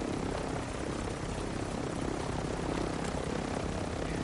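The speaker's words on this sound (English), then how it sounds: "Humongously loud chopper." A loud, close chopper in the shooter Warzone 2.0, its rotor roaring steadily and unbroken throughout with no voices over it.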